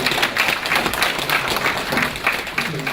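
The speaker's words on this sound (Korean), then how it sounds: "한번 좀 박수 좀 해드리십시오." An audience at a 2015 municipal town briefing in Sinbaek-dong claps steadily and densely throughout, a continuous patter of many hands at close range.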